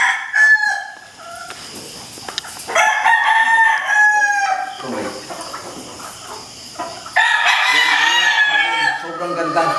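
Imported Raptor sweater gamecock roosters crowing repeatedly, loud and close, several long calls overlapping one another, with insects chirping faintly in the background.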